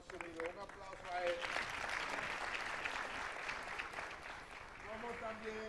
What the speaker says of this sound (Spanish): Un aplauso a él.